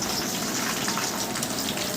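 Hibiscus petals frying in oil for homemade hair oil, a steady, dense crackling sizzle that holds evenly throughout with no talk.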